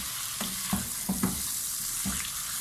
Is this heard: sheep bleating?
no